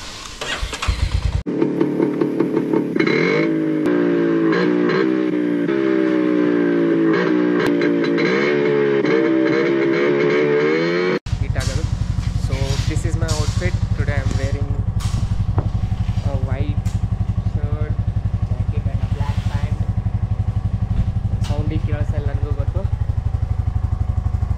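A motorcycle being started for a morning ride in Kodaikanal: a starter whirs and cranks for several seconds, then the engine catches and idles steadily and loudly up close, with talk over it.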